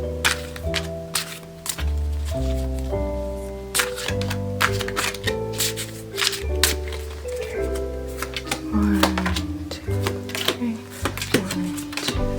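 Tarot cards are shuffled by hand in repeated riffling, slapping bursts over a steady musical background, close and continuous.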